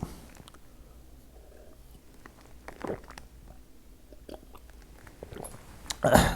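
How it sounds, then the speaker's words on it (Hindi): A man drinks two sips of water at his desk during a spoken coding tutorial, with two soft gulping swallows spaced a few seconds apart over quiet room noise. "एक ही दफ़ा मैं 2 घूंट पानी की पी लूँ"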